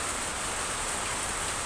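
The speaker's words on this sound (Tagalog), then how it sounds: "malakas ang ulan, guys" Heavy rain pours down in a constant, loud, close wash of hiss that stays unbroken throughout, with no voices.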